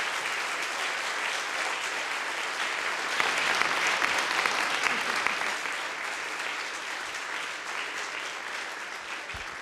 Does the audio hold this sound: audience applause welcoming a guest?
yes